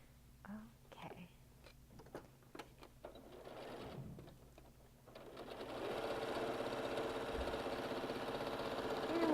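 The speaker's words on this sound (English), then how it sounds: "And we're just sewing away." A sewing machine stitches a border onto a quilt, starting with a few soft clicks and taps, then settling into a steady quiet whirring hum of rapid stitching.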